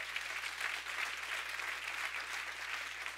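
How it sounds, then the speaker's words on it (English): A church congregation at an Easter Sunday service claps hands together, steady continuous clapping heard at a moderate distance over a low background hum. "Can we give the Lord a hand clap for that?"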